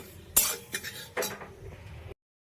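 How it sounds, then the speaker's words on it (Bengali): Poppy seeds lightly frying in a pan, heard mostly as a spoon scraping and clinking against the metal in a few distinct strokes over a faint sizzle. "পোস্তটা আমি হালকা করে ভেজে নিচ্ছি"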